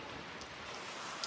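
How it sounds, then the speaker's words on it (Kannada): Rain falling steadily, a dense, even patter of drops on surfaces, close and continuous, with no voices. "ಮಳೆ ನೋಡ್ರಿಪ್ಪ ಸ್ವಲ್ಪ ಬಿಟ್ಟಿಲ್ಲ"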